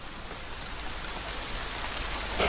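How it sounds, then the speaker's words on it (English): Steady rain sound effect from a fantasy tabletop soundboard, a dense continuous hiss of falling rain on surfaces, even and moderately quiet throughout with no voices. "We can just start these rain effects here by pressing the play button."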